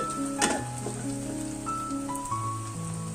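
Beef pieces sautéing with ginger garlic paste in a pan, a bright steady sizzle with a sharp clatter of stirring near the start and faint tonal hums underneath.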